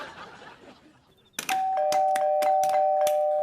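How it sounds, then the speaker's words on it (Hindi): A doorbell rings late at night with a sharp electronic ding-dong chime, sounding repeatedly and loudly after a quiet stretch of room ambience, its tones sustained and overlapping. "कौन है जो इतनी रात को शरीफ आदमी के घर की घंटी बजा रहा है?"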